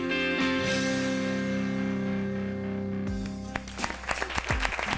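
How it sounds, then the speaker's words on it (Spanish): Audience applause for Mariano Recalde, Buenos Aires city government candidate, at a public conversation event; sustained music-like tones fade and scattered clapping builds in the last two seconds, fairly close and moderately loud. "Muy bien, fuerte el aplauso para Mariano Recalde"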